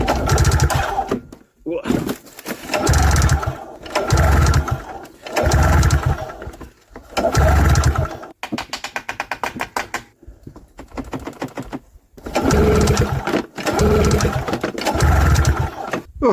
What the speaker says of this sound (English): I'm trying to start this without using starting fluid.